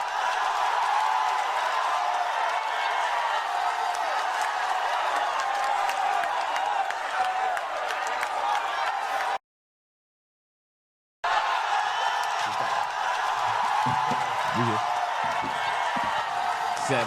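A studio crowd on a talk show breaks into steady, dense applause with scattered cheers, holding at an even level before a brief dead-silent gap, then resuming.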